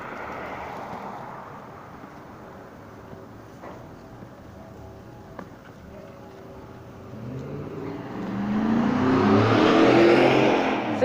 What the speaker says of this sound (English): They rev their engine and they're in a gold pickup truck.